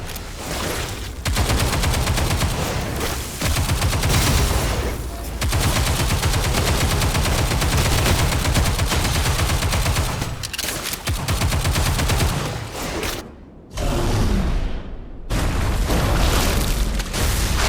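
Rapid gunfire shooting red spheres in the video game Stellar Blade makes loud, sustained bursts of booming shots with brief pauses, alone without talk.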